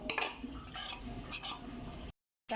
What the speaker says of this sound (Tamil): அப்படியே கிண்டி கிண்டி நல்லா கிளறி கிளறி அந்த கலர் வரும் பாருங்கள்